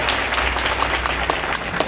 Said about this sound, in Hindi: जोर से ताली बजाकर थैंक्स करें